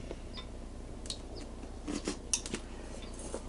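A rubber diaphragm gasket for a sailboat's bilge pump is trimmed with scissors, giving a few sparse, crisp snips and small rustles, close and quiet against a faint background hiss.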